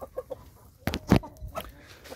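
Soft, scattered clucks from chickens, a few short calls spread over a couple of seconds, fairly close and quiet.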